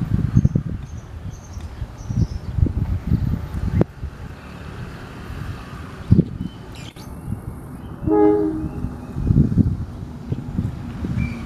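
A CC 201 diesel locomotive train rolls through Nagreg station in Indonesia, with a heavy rumbling engine and rhythmic clattering of wheels over rail joints, a brief horn-like tone partway through, loud and close amid wind.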